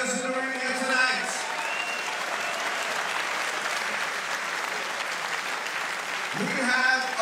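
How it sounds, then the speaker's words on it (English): A crowd applauds both fighters in the ring at a GLORY kickboxing event in Stockholm, steady, full arena clapping throughout, with a voice briefly audible at the start and end. "Ladies and gentlemen, a big round of applause for both fighters in the ring here tonight."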